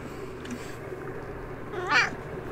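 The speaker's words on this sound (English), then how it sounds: "I'll meow you in a minute, cat." A cat gives a single clear meow, rising and falling, heard over a steady background hum.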